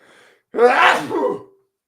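A single loud, close sneeze bursts out after a short quiet breath, sharp at onset and fading within about a second.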